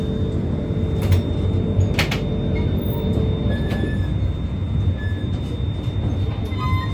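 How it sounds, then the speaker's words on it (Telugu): A passenger train on the Kazipet to Prayagraj route pulls out of Jammikunta station with a loud continuous rumble, metallic clanks and knocks early on, and faint wheel squeals over a steady hum. "జమ్మిగుంట నుంచి అయితే మన ట్రైన్ అయితే మూవ్ అయింది"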